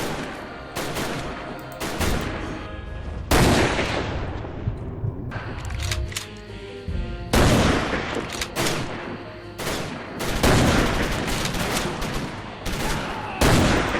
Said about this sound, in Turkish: 15 mermi. Çatışalım biraz.